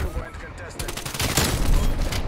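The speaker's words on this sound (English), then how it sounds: "Another strafe run." A strafe run scorestreak in Call of Duty Cold War fires rapid bursts of aircraft gunfire, dense and rattling, building louder toward the end, with a voice talking over it.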